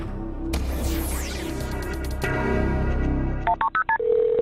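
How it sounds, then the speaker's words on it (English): A telephone is dialed in Cincinnati: a handful of short, distinct keypad tones beep in quick succession after a stretch of rumbling background, ending in a sustained tone. "when you dial 911 here in the city of Cincinnati"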